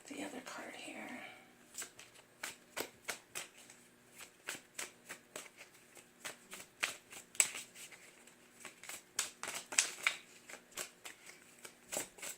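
Tarot cards being handled and shuffled, a series of crisp riffling bursts repeating steadily at close range, with quiet speech underneath at the start.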